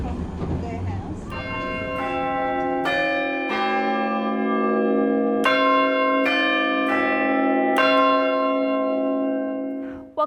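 London church bells peal loudly and close, strikes ringing out one after another and overlapping in a sustained, resonant chime.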